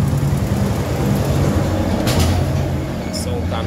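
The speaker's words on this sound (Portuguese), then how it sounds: "Toda hora passa caminhão aqui, pessoal." A truck rumbles past on a nearby road, its deep, steady drone blending with the low putter of an idling Honda Biz 125 motorcycle close by, with a few brief clanks on top.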